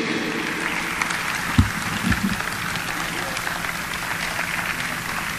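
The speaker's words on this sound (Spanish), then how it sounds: "Fuerte el aplauso y si se ponen de pie para recibir a Benny Slochisti." Audience applause greeting Benny Zlochisty, president of the Zionist Council of Mexico, at a formal address, a steady broad wash of clapping with a few louder thumps and low background murmur.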